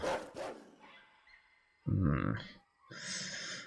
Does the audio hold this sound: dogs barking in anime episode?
yes